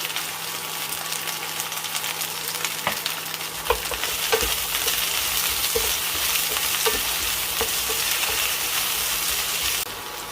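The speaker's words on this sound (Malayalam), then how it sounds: "വെണ്ടയ്ക്ക ഒന്ന് വറുത്തെടുത്തിട്ടുണ്ട്" Okra sizzles and fries in hot oil, with occasional stirring clicks and scrapes of a utensil in the pan.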